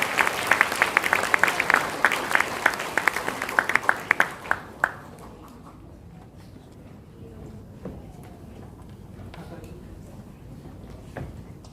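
A church congregation at an ordination and retirement ceremony at Sanbon Areumdaun Church claps in a short, close burst of applause that fades after about four seconds, leaving quiet room tone with a few scattered claps.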